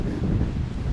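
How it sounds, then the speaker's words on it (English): Strong gusting wind buffets the microphone at an RC glider flying field, a loud, continuous low roar with no voices. "Now it's too windy. Now it's very strong."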